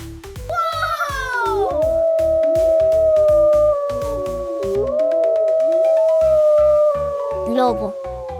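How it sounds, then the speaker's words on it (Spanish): A wolf gives a long, sustained howl that rises, holds and falls, repeated a few times and loud and near, over rhythmic background music. "Lobo."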